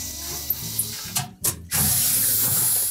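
Ratchet removing 1/4-inch hex head screws from the back plate of a GE range, a few close clicking ratchet strokes and mechanical rattles, then a short spray-like hiss and a steady background hum.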